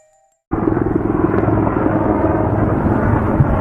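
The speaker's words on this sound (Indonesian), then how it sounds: "helikopter serang yang sangat efektif" Mi-35M attack helicopter with a steady, loud rotor and turbine roar that starts abruptly after a brief quiet moment and holds constant and close throughout.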